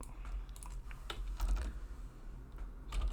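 Fingers tap out a quick, irregular burst of keystrokes on a computer keyboard, close and clear with short pauses between clusters of clicks.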